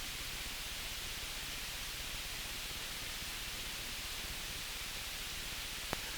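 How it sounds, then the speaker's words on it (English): Steady broadband hiss from a Xiegu X5105 HF QRP radio with the audio turned all the way down, even and unchanging throughout, with one faint click near the end. "Here's the hiss when the radio should be completely silent."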